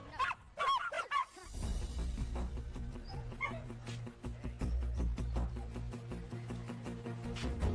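A few dogs bark and yip at close range in a burst at the start, in a coffee shop. Music then carries on steadily beneath them.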